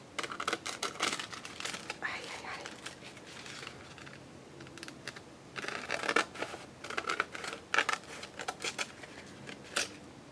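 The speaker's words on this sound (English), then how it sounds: "Just rip that." Tissue paper is ripped and crinkled by hand in bursts of sharp, close tearing and rustling, with quiet gaps between the louder rips.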